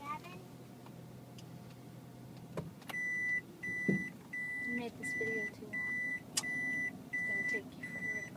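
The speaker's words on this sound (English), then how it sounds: "the cars beep when you put them in reverse" A car in a residential backyard in Uruma City, Japan, gives a repeating series of short, clear reverse-gear beeps in a steady rhythm over low idling and street noise, with no talk.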